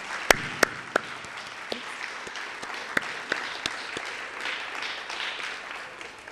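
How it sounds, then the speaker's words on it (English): Audience applause at a State College of Florida College Reach Out Program event: a room of many hands clapping steadily for about six seconds, with a few sharp, louder claps standing out near the microphone. "Let's give them all a round of applause."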